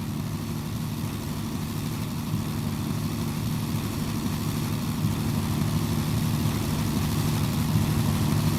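A P-51 propeller aircraft engine in the Roblox game PTFS flies over at an airshow, a steady, loud, low droning hum that holds constant throughout, with no voices.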